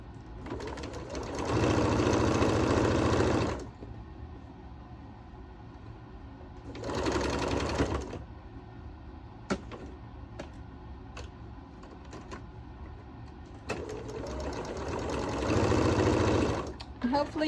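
A home sewing machine stitches quilt tulip block pieces in three separate bursts of steady whirring, with quiet handling and a few sharp clicks in the pauses between runs.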